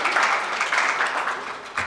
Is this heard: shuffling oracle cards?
no